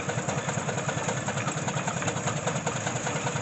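An antique 1918 gas engine runs at a gas and steam engine show, giving a steady, regular chugging beat at moderate volume with no talking.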